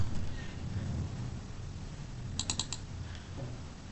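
A computer keyboard is tapped in a short quick cluster of faint clicking keystrokes near the middle, over a quiet background hum, with no talking.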